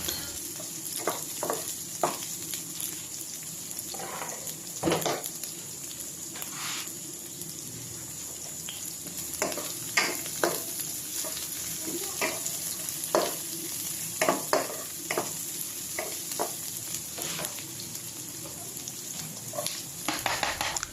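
Chopped onion sautéing in hot oil in a pan for a saucy misua and sardines dish, with a steady sizzle and frequent scrapes and clicks of stirring throughout.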